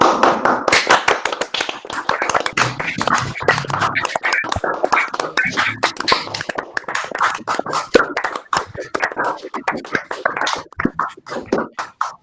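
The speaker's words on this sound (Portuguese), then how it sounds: "eu vou pedir para todo mundo abrir os microfones agora, para a gente poder agradecer ao Haroldo com uma salva de palmas" Participants in an online seminar clap through open microphones. The claps are scattered and uneven, with sharp, tappy hits from many remote sources overlapping into a clattering, irregular patter. There are faint murmurs under it.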